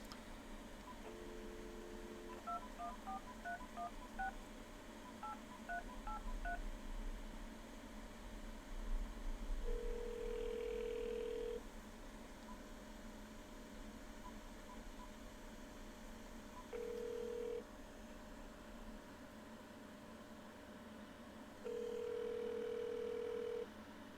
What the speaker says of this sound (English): Trying to see if my wife will answer the phone.